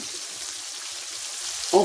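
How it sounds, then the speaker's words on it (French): Chicken pieces deep frying a second time in boiling oil give a steady, even sizzle and crackle, fairly close and alone, with a brief clink near the end. "on les a repassés une seconde fois dans la friture bouillante"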